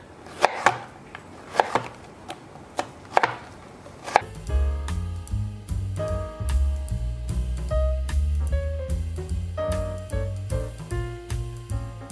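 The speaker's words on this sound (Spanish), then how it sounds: "Y así las voy a ir picando todas hasta terminar." A knife chops zucchini into small cubes sharply on a cutting board a few times in a slow rhythm, then music takes over.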